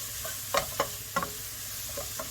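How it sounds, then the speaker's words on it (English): Ginger, garlic and chilli sizzle steadily in a hot pan for sweet chilli noodles, with a few brief stirring scrapes over the constant frying hiss, close up and with no talk. "In goes the ginger, in goes the garlic."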